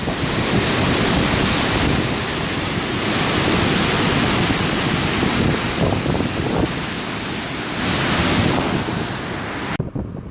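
Victoria Falls near Livingstone, Zambia roars as a loud, unbroken wall of falling water, with wind buffeting the microphone and swelling the noise in waves before it cuts off abruptly at the end.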